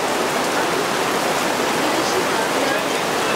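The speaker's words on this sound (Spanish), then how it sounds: "La lluvia." Steady rain falls outdoors in Poland, a dense, even wash of hissing noise with no breaks, loud and close, filling the whole moment without any voices.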